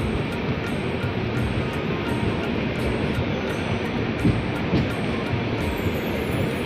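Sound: train

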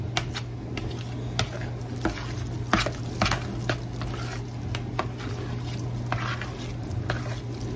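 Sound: stirring egg salad with Duke's mayonnaise

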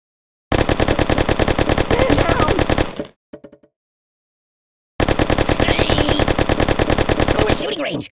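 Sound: machine gun fire at shooting range in Kick the Buddy game

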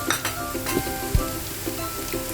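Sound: ginger, garlic and onion frying on low gas

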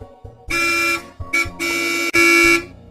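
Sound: car horn honking

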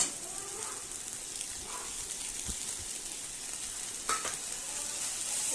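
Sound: cooking young greens with prawns and green chili

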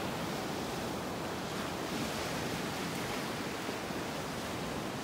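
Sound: ocean waves on Gulf Coast beach, Florida

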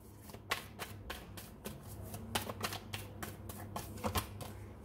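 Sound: shuffling and drawing tarot cards

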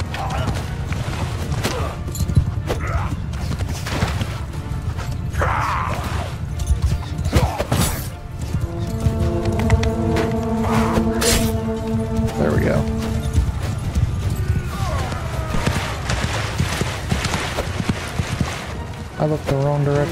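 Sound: horse galloping in video game Bannerlord

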